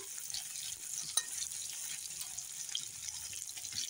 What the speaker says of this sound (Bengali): এর মধ্যে ফুলকপি ভাজবো